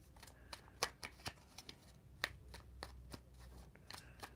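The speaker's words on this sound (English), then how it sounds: "I'm just going to shuffle them now and pull from the top." A deck of cards being shuffled by hand makes quick, soft papery riffles and clicks in an irregular patter, close but quiet, with no voice.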